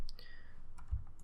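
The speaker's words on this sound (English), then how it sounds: "Ctrl C, Ctrl J on your keyboard" A few quick, light clicks of computer keyboard keys pressed for shortcuts while working in Photoshop, close and soft, with a faint thump and a short tonal blip early on.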